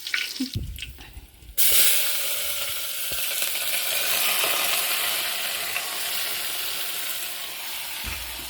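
After some rustling, garlic and curry leaves drop into hot oil for tempering and a loud, steady sizzle follows, with occasional stirring clinks.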